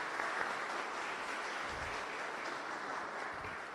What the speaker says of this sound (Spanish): le recibimos con un caluroso aplauso al Padre